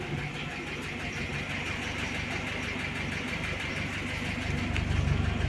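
An old car engine with a worn used camshaft idles cold, giving a steady mid-pitched hum with faint rhythmic ticking running through it, close by and without talk.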